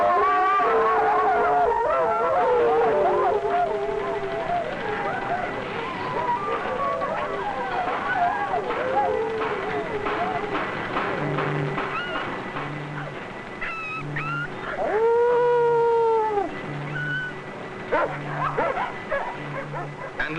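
Husky sledge dogs on board a ship howl, whimper and yip in a chorus of rising and falling wails, with a steady low rhythmic hum underneath.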